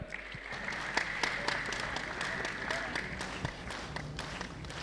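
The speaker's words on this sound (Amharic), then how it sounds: "ሞቅ ባለ ጭብጨባ።" Sustained audience applause fills a hall at an institutional award ceremony, dense steady clapping with sharper individual claps standing out throughout, loud and continuous for the whole stretch.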